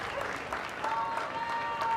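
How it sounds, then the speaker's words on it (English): A crowd at a dog agility championship run applauds and cheers, a sustained wash of clapping with whistles and voices rising slightly toward the end. "Big cheer from the crowd."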